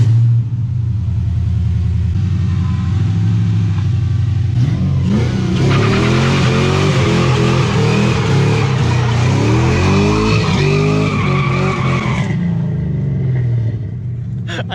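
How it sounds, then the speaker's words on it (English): An LS1-swapped Mazda RX7 spins its rear tires, the V8 engine roaring loud and steady throughout, with tire squeal and rising revs joining from the middle before the engine eases off at the end. "modulating brake and pedal to get it to the point where you're spinning your rear tires, but you're not moving forward"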